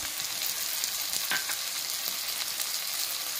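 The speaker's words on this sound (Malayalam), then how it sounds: "മസാല കുറേശ്ശെ വെള്ളമൊഴിച്ച് വഴറ്റിയെടുക്കണം" Masala for a shallot mutton curry fries in a pan with ginger-garlic paste and chili powder, giving a steady, close sizzle with a brief stirring clink partway through.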